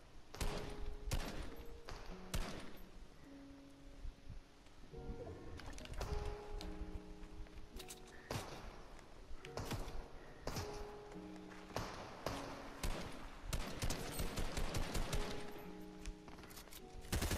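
Rapid bursts of assault rifle fire in the Fortnite video game, sharp cracks repeating in quick clusters over game music, loud and close throughout.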